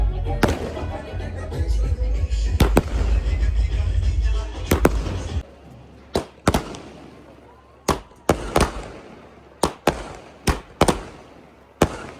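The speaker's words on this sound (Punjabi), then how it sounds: "ਲੋ ਵੀ ਪਟਾਕੇ ਚਲਾ ਦੇ ਮਿੱਤਰੋ" Firecrackers go off at a wedding in Punjab: a dense crackling barrage with loud rumbling crowd noise, then a string of separate sharp bangs spaced a second or so apart.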